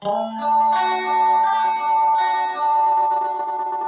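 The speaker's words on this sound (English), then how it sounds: "maximum feedback will sound like this." A sustained guitar chord rings through an effects pedal set to maximum feedback, with swirling, echoing feedback tones layering and building, loud and close, no talking.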